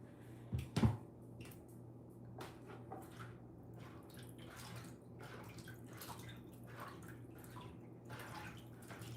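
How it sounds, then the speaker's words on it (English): Water rinsing a dog during grooming in a bathtub: a short splashing burst near the start, then quiet running and dripping water over a steady low hum, faint and fairly close. "I'm gonna rinse that off like this."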